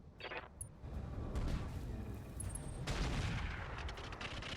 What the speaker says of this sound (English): That's quite a lot of rockets missing there